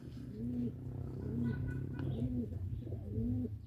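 A fantail pigeon gives repeated soft, rolling coos in a steady rhythm, close by, over faint background ambience.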